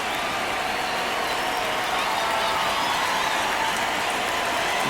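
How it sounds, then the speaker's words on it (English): Cleveland Guardians fans cheering in a simulated MLB baseball game against the Boston Red Sox, a steady distant crowd roar that swells slightly louder partway through. "Guardians fans cheering their team on here"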